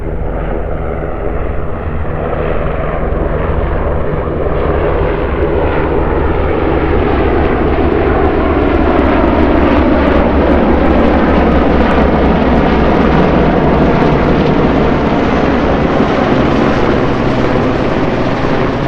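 Several military helicopters flying overhead, a loud, continuous engine and rotor roar that slowly swells as they pass close by, with no talking.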